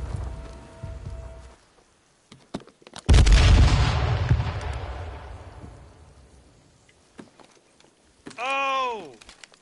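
A sniper rifle shot in a PS4 video game: one loud, close boom with a long rumbling decay, amid scattered small game sounds, with a voice briefly heard near the end.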